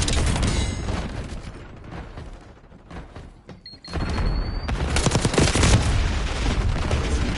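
Heavy automatic gunfire and explosions in Call of Duty Black Ops 6 multiplayer, loud continuous bursts that drop briefly into a quieter lull with a faint high ring before a powerful frag grenade blast and renewed firing.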